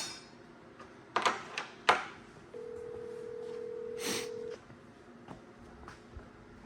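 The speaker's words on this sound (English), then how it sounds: "Calling Barry. Mobile." Mobile phone call being dialed: a few clicks and taps, then a steady dialing tone lasting about two seconds, followed by faint scattered clicks in a quiet room.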